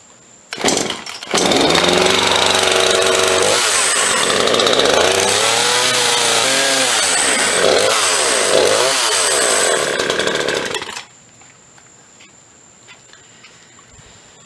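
A Craftsman 160 16-inch chainsaw, just back from an oiler fix, starts up loud and close, revs up and down in several swells for about ten seconds, then cuts off abruptly into near quiet.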